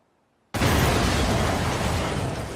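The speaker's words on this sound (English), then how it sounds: "So you see this explosion and then the audio from it came after." Cartoon explosion from an animated Batman Christmas episode with the Joker: a sudden loud blast after a moment of silence, followed by a long, slowly fading rumble.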